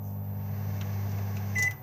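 A microwave oven in a 2021 Auto-Sleeper Warwick XL motorhome gives a steady low hum, then one short, sharp beep near the end.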